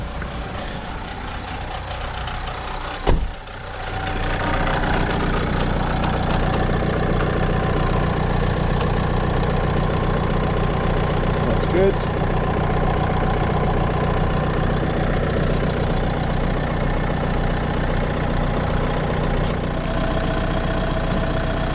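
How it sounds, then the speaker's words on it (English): A 2016 Nissan X-Trail engine idles with the air conditioning fan on full, giving a steady, continuous mid-low hum. A brief thump comes near the start, then the running drone holds level with no talk. "So we've got the engine running"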